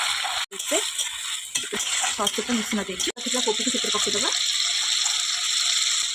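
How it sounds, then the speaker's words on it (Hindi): Water poured into a pan of cabbage chilli cooking with chilli sauce, a steady broad wash of sizzling and splashing running throughout beneath a voice talking over most of the clip. "पानी देदेबा"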